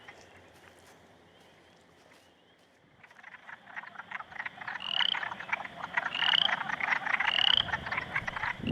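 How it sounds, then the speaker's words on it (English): A chorus of male wood frogs at a pond croaks and clucks continuously, starting sparse and quiet then swelling into a dense, loud clattering outdoors. "The male wood frogs who have shown up to the pond now"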